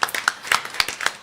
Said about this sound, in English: I'd like to give a round of applause again to the organizer of this festival.